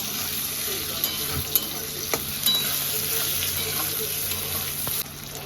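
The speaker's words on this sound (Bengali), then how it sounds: "এবার দিয়ে দেব টমেটো আর দিয়ে দেবো সামান্য চিনি এবার ভালো করে নাড়াচাড়া করে দেবো" Tomato and a little sugar stirred in a hot frying pan give a continuous close sizzle, with occasional soft scrapes and knocks of the spoon.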